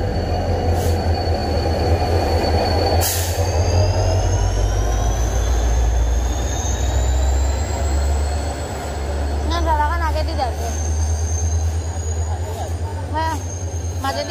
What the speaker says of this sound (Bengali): ফাইনালি মনে হয় আমাদের ট্রেনটা চলে এসেছে।